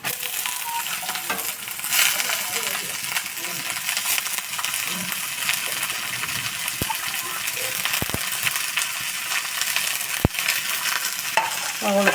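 Sliced onions sizzle in a pan while being stirred, a steady hiss with occasional sharp clicks of the spoon against the pan, heard up close throughout.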